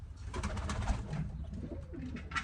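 Pigeon cooing close by in soft, low, throaty murmurs repeated over a few seconds, with light rustling and background noise.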